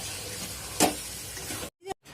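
Chicken cooking with yogurt in a pan gives a soft, steady sizzle, broken by one brief louder scrape as it is stirred, then a quick drop to near silence near the end.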